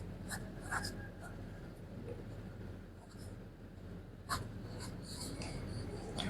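A pen or marker draws on a board, with faint scratchy strokes and brief squeaks in short bursts over a steady low hum. No voice is heard.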